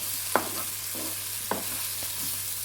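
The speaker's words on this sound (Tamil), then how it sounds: "தக்காளியும் சேர்த்து நம்ம நல்லா வதக்கிக்கலாம்." Tomatoes sizzle softly as they sauté in a pan under a faint hum, with a few sharp scrapes and taps of a spoon stirring them.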